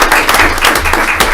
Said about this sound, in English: So please share some applause for Ms. Bagwell.